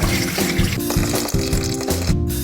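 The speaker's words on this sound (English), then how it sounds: "Wash and rinse the rice" Water runs and sloshes over rice as it is washed and rinsed, a loud continuous pouring and swishing sound close by, with a short gurgling rhythm.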